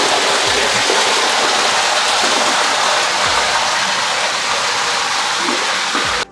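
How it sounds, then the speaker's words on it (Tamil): Water pours steadily down the stone steps of an indoor waterfall in a luxury house, a loud, continuous rushing splash that stays even and close throughout. "அந்த படிக்கட்டு ஏரியாவில் அந்த தண்ணி வந்து வந்துக்கிட்டே இருக்குது அப்படின்னும் போது அந்த சவுண்டும் வந்து நமக்கு கேட்டுக்கிட்டே இருக்குது"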